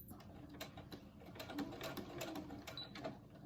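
A sewing machine stitches over elastic on a fabric mask with a steady, rapid mechanical whir and ticking, faint and continuous throughout.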